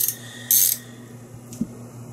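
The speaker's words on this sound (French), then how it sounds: "clé standard à l'avant et cliquet à l'arrière" A ratchet wrench mechanism gives a few quiet, isolated clicks and brief bursts of hiss during maintenance, with short pauses between the sounds and no talking.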